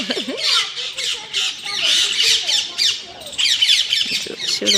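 A flock of parrots, about ten, squawks outdoors in harsh, overlapping bursts that go on without a break, loud and close, with no talking.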